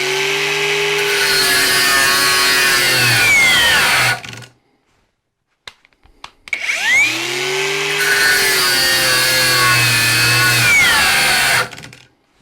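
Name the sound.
Parkside Performance 20V cordless angle grinder disc cutting under load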